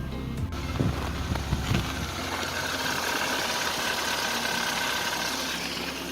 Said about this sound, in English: I'll just let the car run a bit and see if it will start to idle strangely